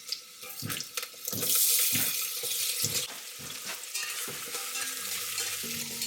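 Onion and cumin sauté in hot ghee on a sauté setting: a loud, hissing sizzle swells and settles while repeated stirring strokes knock and scrape nearby.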